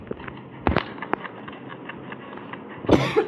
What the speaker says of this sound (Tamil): கைஸ் எனக்கு கொஞ்சம் சளி பிடிச்சிருக்கு. ஸோ இருமல் நிறையா வரும்.